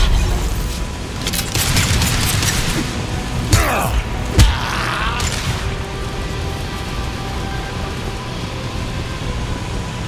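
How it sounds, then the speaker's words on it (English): Impact shot weapon firing in the PC game Mass Effect 2, heard as two sharp booming blasts a second apart over a dense, rumbling bed of battle noise and mechanical game sound. "Firing an impact shot!"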